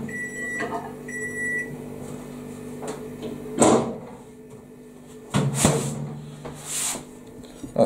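A microwave oven heats a pie on a plate. Beeps sound at the start, then a low hum runs on, broken by several loud clunks of the door and plate being handled nearby.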